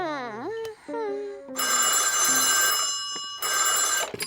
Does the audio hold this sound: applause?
no